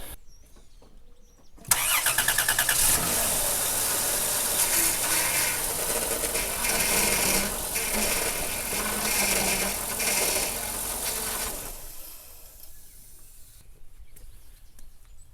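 After a short quiet moment, a 2002 Dodge Caravan engine cranks and catches with a loud burst, then idles at a steady, rough hum before it cuts off, after a power steering reservoir replacement.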